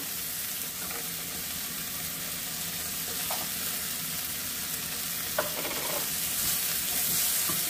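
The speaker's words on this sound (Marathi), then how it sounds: "आता आपण त्यामध्ये आलं लसणाचे काप टाकूया" Ginger and garlic slices frying with onions in a pan, a steady, even sizzle running close and continuous with a couple of faint stirring scrapes, no talk.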